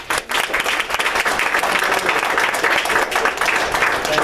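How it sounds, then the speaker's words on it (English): An audience at a political discussion event applauds a guest speaker with dense, steady clapping that fills the whole stretch and never breaks for talk. "Round of applause for our guest speaker."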